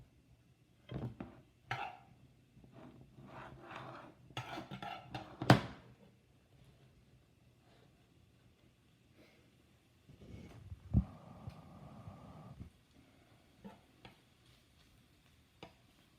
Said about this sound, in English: Can start to hear the sizzle.